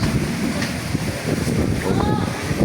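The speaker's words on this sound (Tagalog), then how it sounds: "Open na open yung lugar, kaya malakas ang hangin dito." Strong wind across a wide-open outdoor area in Montalban, Rizal, Philippines buffets the microphone in gusty, rumbling bursts, with faint speech underneath.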